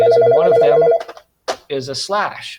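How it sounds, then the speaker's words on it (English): A telephone rings during an online music-notation lesson, a steady bright electronic trill up front before someone speaks over a quieter follow-up. "Sorry for the phone ringing."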